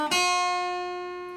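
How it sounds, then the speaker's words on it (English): A single plucked acoustic guitar note in blues style rings out clearly and slowly decays, with a brief slide into the note at the attack, played alone. "And then he's going to slide."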